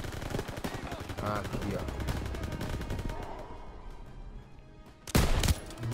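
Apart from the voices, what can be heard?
gunfire in a video game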